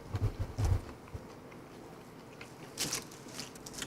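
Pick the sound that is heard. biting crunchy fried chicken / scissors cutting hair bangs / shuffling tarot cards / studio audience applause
biting crunchy fried chicken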